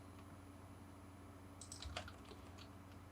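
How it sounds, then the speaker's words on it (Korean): A few faint, quick clicks of a computer keyboard as the letter E is typed and Enter is pressed while drafting in AutoCAD, close by over a quiet room hum. "그리고 E를 입력하고 엔터 클릭"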